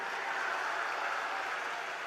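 A large devotional gathering claps after chanting Sita Ram, a dense, continuous wash of applause that stays steady and fairly loud throughout.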